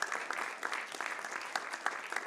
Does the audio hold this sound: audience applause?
yes